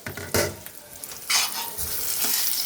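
Soya manchurian mixture being stirred in a pan after resting covered, with a spoon scraping and sizzling in short, close bursts of clattering and frying noise.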